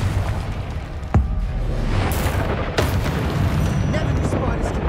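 A Confringo spell explosion in Hogwarts Legacy lands as a sharp blast near the one-second mark, then rumbles into a dense, loud wash of in-game noise with a second burst later.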